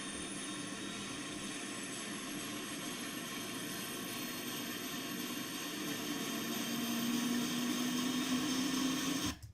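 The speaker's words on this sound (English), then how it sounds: "we have a helicopter shot" Stock recording of a helicopter, a steady loud turbine whine and broadband engine roar with a rising tone near the end as it starts to rev up, no voices.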